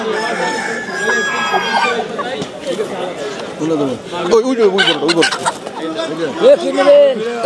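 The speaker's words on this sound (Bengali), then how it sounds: "অনেক বড় বড় মুরগি" Chickens cluck and a rooster crows amid the busy chatter of people at a village market in Kotalipara, Gopalganj, Bangladesh, with bird calls rising and falling over the crowd noise.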